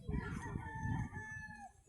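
Rooster crowing on a small vegetable farm, a single drawn-out cock-a-doodle-doo call, fairly faint and heard alone.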